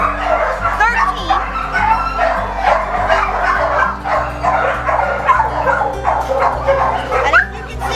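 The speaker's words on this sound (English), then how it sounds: "how to get the dogs out of their kennels to play" Several dogs in kennels barking, yipping and whimpering in an excited, overlapping chorus, close and continuous, with a person's voice faintly under the noise.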